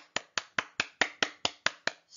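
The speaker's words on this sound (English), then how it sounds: "Big clap." A steady, rapid run of about nine crisp hand claps, evenly spaced and close, with no talk, from a school morning assembly.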